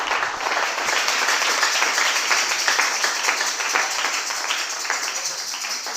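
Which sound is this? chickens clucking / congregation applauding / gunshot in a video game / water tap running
congregation applauding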